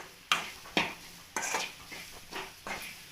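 A utensil stirs coconut laddu mixture in a pan, making several sharp scrapes and knocks at an uneven pace with a faint sizzle between strokes, up close with no talking.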